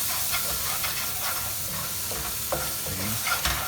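Blanched tomatoes sauté in a hot pan for chana masala, a steady hissing sizzle with a few stirring scrapes and taps of the spoon, close and alone without talk.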